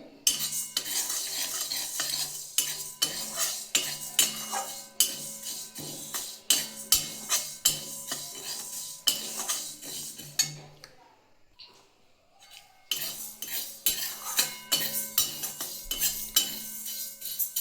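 Coriander, panch phoron, mustard and cumin dry-roast in a pan over a low flame while a spoon stirs them, making rapid repeated scrapes and clinks with a brief pause midway, close up and without speech.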